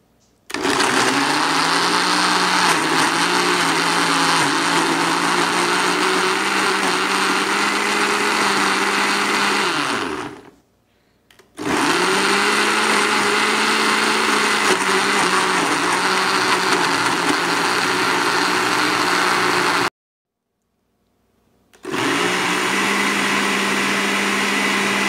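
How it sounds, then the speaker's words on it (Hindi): Electric blender whirring loudly as it blends bread, eggs and yogurt, running in steady long bursts with two brief stops where the motor spins down and restarts. "अच्छी तरह ब्लेंड हो गया। डबल रोटी, अंडा और दही का मिक्सचर तैयार हो गया।"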